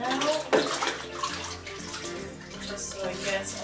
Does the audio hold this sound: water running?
yes